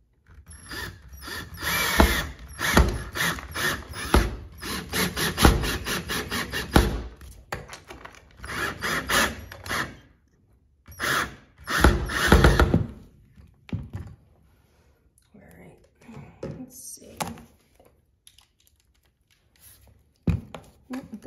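Screws being driven by hand tool to fit a doorstop, with rapid clicking ratchet-like bursts and intermittent thunks, close up, then quieter scattered handling sounds.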